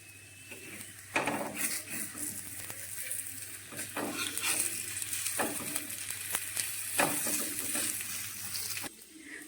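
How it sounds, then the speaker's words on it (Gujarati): Steady sizzling of a vegetable cheese frankie frying in oil in a pan, with occasional scraping and stirring clinks over the constant hiss. "ધીમા છે આપણે એને તળી લઈશું આવી રીતે"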